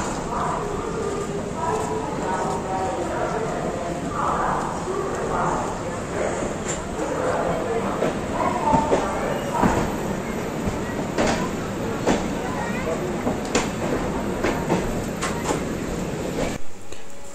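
The Padatik Express pulls into Bardhaman Junction at half past four in the morning with a continuous rolling rumble and scattered metallic clicks and knocks, while voices murmur in the background throughout.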